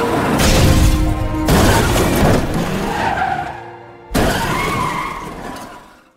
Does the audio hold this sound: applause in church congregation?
no